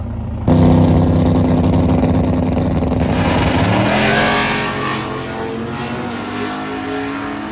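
A drag race car erupts into a loud, sudden roar at launch and blasts down the racetrack, its engine note climbing and then fading as it pulls away into the distance.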